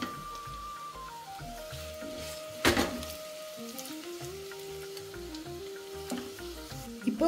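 Onions frying in hot oil for paneer biryani, a steady sizzle running throughout, with a louder burst of stirring and clatter near the middle and a few brief knocks later.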